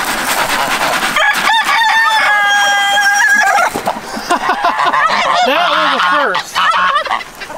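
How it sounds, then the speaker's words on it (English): A rooster crows loudly and close by from a gate at a barn, with long drawn-out calls, and other fowl cluck and squawk around it. "The rooster was crowing on the gate"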